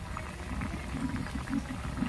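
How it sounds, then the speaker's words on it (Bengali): A pot of jackfruit and prawn curry bubbles steadily in a close, low gurgling simmer, with soft irregular pops and no voices. "আমার এঁচোড় চিংড়ি ফুটছে"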